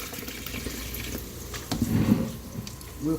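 Water is poured from a jug into a container, giving a close, splashing gush that swells near the middle and again at the end. No voices are heard.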